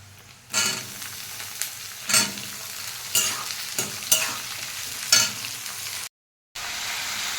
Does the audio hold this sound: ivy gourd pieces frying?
yes